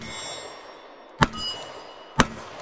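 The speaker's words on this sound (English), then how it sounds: "I'm going to shoot your mini mag, okay?" Two sharp, loud metallic impacts about a second apart stand out from a faint background hum, consistent with pistol rounds striking a Mini Maglite flashlight at a shooting range.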